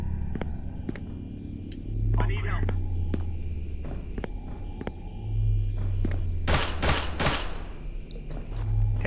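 Gunfire in the horror game SCP: Containment Breach (Terror Hunt v4.4), with a shot coming through glass; sharp bursts and thuds come near the end over footsteps, ambient rumble and a soft voice.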